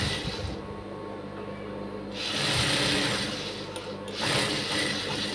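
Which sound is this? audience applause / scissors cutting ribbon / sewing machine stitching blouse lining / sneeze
sewing machine stitching blouse lining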